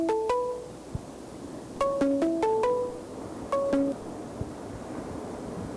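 A phone rings with a melodic electronic ringtone, three bright repeating bursts of stepped tones, fairly close in a quiet room with faint background noise and no talking.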